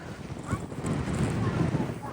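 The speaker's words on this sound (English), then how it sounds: "Oh, it's so windy." Strong gusts buffet the microphone on a windy outdoor walk, producing rough low rumbling and blustery bursts while a voice speaks faintly over it.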